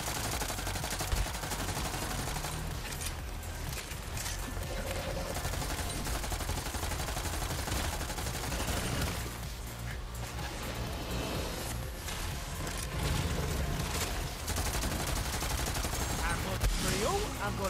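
Rapid, continuous gunfire from Borderlands 3, with Zane fighting Hemivorous the Invincible, in dense automatic bursts under speech for the full stretch.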